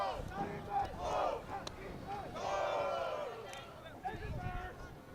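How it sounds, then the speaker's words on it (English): Players in a high school baseball dugout shout and cheer rowdily in bursts, moderately distant, mixed with crowd chatter. "The Campbell dugout, once again rowdy. They've been rowdy all night, cheering on their team"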